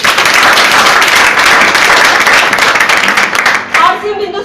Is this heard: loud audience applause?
yes